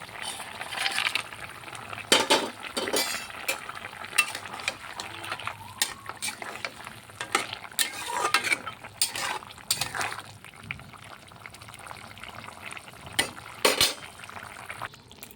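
Lentil dumplings (bori) frying in a pan, with a soft sizzle under repeated clinks and scrapes of a spoon stirring against the metal, uneven and close.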